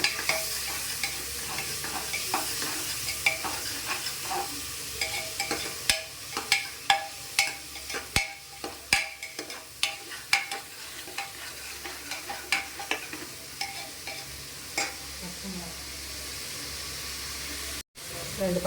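A single tomato sautéing and being stirred in a pan for mushroom biryani: a steady low sizzle and hiss with repeated scraping stirs and clinks throughout, close up, with no talking.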